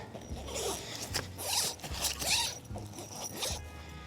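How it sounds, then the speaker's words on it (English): A zipper on a long canvas bedroll bag, a cowboy-style outdoor bed, is pulled open in several quick rasping runs, close and clear with no talk over it. "We're gonna unzip it."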